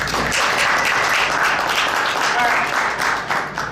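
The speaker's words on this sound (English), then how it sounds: "Applause." Audience applause fills a conference hall during a Second Amendment convention session, steady dense clapping at close range holding loud for several seconds before thinning slightly at the end.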